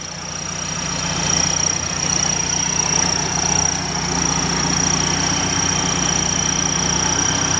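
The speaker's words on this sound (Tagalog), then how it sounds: "Naririnig nyo ba yung makina ng Lancer namin?" A Mitsubishi Lancer engine idles steadily with a constant low hum and a faint high whine, no voices, holding even throughout.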